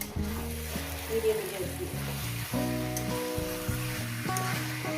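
Mutton curry with potatoes frying in spice masala, a steady close sizzle with scraping and stirring sounds throughout, while a faint voice talks quietly in the background.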